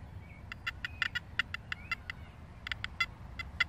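A Makro Kruzer metal detector in 4-tone mode chirps in quick, irregular bursts of short, high, bright beeps over a low steady hiss, some blips clustered tightly and others spaced apart.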